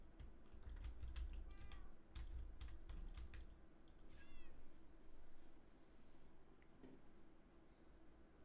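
A pet cat gives a few short meows close by, heard over steady computer keyboard typing and a low background rumble.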